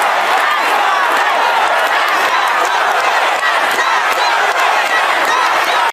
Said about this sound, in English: here's crowds chanting, tax the rich, as New York Governor Hochul spoke at the New York is not for sale rally last night